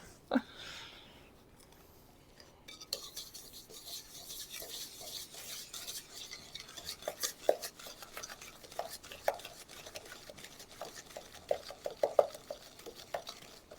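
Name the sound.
mixing apple crumble mixture with vanilla essence in bowl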